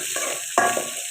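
Garlic sautés in hot oil in a pan with okra for a Tamil vegetable theeyal, giving a soft, steady sizzle broken by one sharp stir or scrape near the middle.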